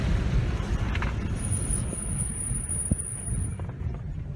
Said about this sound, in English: let's see if we can hear these brakes squeak.